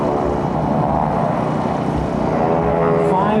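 Vintage propeller airplanes, the GEICO Skytypers with 600-horsepower Pratt & Whitney radial engines, drone overhead at an air show on a military base, a loud continuous rumbling engine roar.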